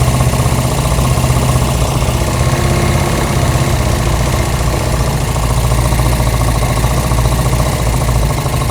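A Honda CB200 motorcycle with an aftermarket carburetor idles steadily, its loud, close engine thrumming in an even, rapid beat for the whole stretch, alone and with no voices.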